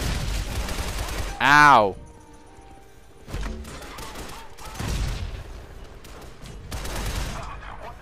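Gunfire in the action game Shadow Complex, a few sharp bursts spaced over several seconds at moderate loudness, with a short shout of pain and someone talking between the shots.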